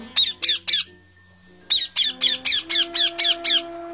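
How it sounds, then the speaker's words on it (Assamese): A crow caws in loud, close, harsh bursts, three calls followed by a longer run of about eight, set against a quiet background as a radio drama sound effect. "কাউৰীয়ে মাতিলে মোৰ বৰ খং উঠে"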